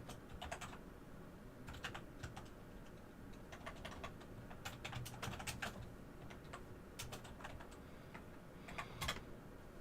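Quiet, irregular clusters of computer keyboard keystrokes patter through the full stretch over a steady background hiss, with bursts of quick taps separated by short pauses and no talking.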